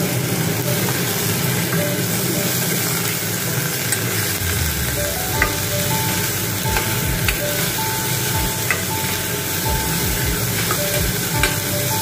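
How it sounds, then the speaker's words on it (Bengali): Raw mango for chutney stirred in a pan over low heat, giving a continuous loud sizzle and hiss with faint intermittent scraping, no voices. "একটু নাড়াচাড়া করে নিচ্ছি"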